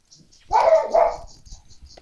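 A dog barks indoors, two loud close barks in quick succession, followed by faint scuffling and quiet movement.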